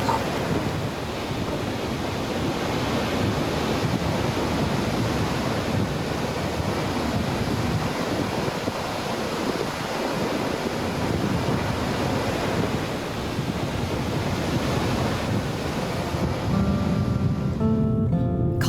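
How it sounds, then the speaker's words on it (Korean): A steady, broad roar of Yosemite Falls in Yosemite National Park fills the scene for the whole stretch, constant and powerful, with wind buffeting the microphone. "거대한 절벽을 반으로 가르듯 힘차게 쏟아지는 폭포의 위세가 대단하다."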